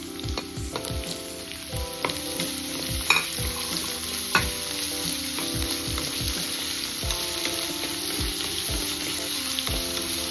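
Carrot and potato pieces fry with onions in a pan for a vegetable rava pulao, a steady close sizzle broken by repeated scraping stirs and a couple of louder clinks, with no voices.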